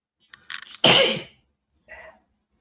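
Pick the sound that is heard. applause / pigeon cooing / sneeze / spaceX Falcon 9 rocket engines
sneeze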